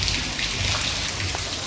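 Heavy monsoon rain pours in a Gujarat village, filling an open bucket, a dense continuous hiss and patter close by with no talking.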